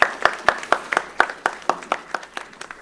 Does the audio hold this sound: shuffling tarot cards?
no